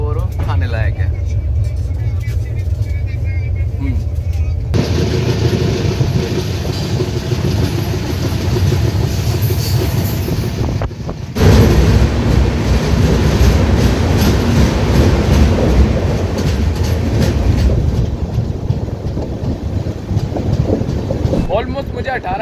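Inside a moving Indian express train on a long Tamil Nadu rail journey: a steady loud rumbling roar with clattering wheels that shifts abruptly partway through, continuous throughout.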